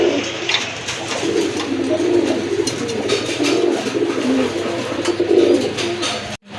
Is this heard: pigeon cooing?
yes